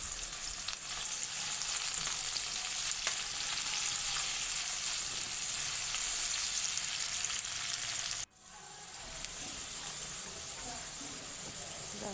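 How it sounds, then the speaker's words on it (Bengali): Chopped onions fry in oil in a pan with a steady, bright sizzle that drops abruptly partway through, then resumes slightly softer. "পেঁয়াজটা হালকা ব্রাউন কালার করে ভেজে নেব।"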